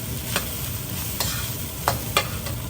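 Fuchow chicken fried rice being stir-fried in a pan, with a steady low sizzle under a handful of sharp scraping strokes from the spatula at irregular intervals, close and fairly quiet, no voices.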